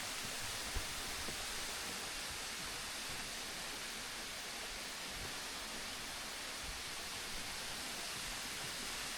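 Rain falls steadily on a jade-green lake filling a former granite quarry ringed by tall rock walls, producing a continuous, even broadband hiss with no voices.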